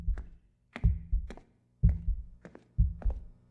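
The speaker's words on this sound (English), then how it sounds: "I think we can hear her heartbeat." Slow, heavy heartbeat in the RoboCop: Unfinished Business video game, a nervous woman's pulse thudding as paired low thumps in a steady rhythm, close and prominent with no talk over it.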